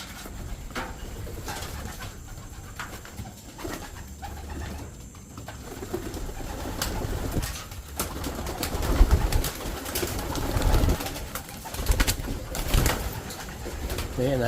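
Pigeons released from a loft coo softly at close range within a busy mix of flapping, rustling and scattered background noise. A person speaks faintly at times.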